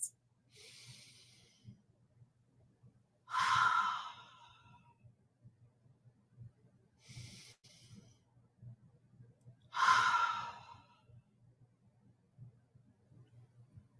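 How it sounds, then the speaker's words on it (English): Two slow, deep breaths, each a long soft inhale followed by a louder, breathy exhale, heard close up with quiet pauses between them. "Take a deep breath"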